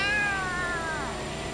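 A cat meows in Yakuza: Like a Dragon, one long, clear, drawn-out meow that slides gently downward in pitch, loud and close with nothing else over it.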